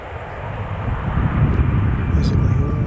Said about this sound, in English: Basically all Air New Zealand ATRs are the 600 model.